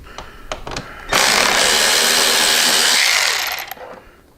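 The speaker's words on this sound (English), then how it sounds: "We're going to take a Torx 27 and remove these 2 screws on both sides." A power driver fitted with a Torx 27 bit spins out screws holding a motorcycle fender fairing, a loud steady whir running about two and a half seconds after a few faint clicks, then tapering off.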